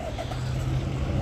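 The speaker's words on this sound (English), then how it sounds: "Audible activity is the sound of the truck." A truck cruises around a parking lot, its steady low engine drone and road rumble holding constant and fairly close throughout.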